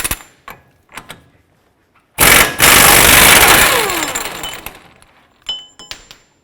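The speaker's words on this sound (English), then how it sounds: "In our case, we're going to use an air gun because it's just pretty easy to use." An air impact gun rattles in a loud, harsh burst of about two seconds, spinning off the CV axle nut on a 2008-2012 Ford Escape, framed by scattered clanks and clicks of tools nearby.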